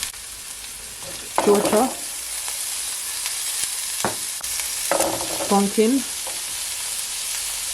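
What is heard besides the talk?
onion, carrot and vegetables sizzling in oil in a pot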